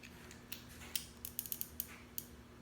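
Faint, close mechanical clicks and creaks come in an irregular series as a crimping tool ratchets and squeezes shut on a patch cable connector.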